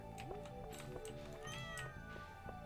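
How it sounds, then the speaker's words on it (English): A cat meows repeatedly while being petted in the farming game Stardew Valley, several short meows over a soft background music bed. "Pet the cat."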